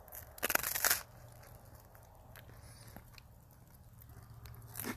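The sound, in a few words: biting and chewing crunchy dinner heated on a rock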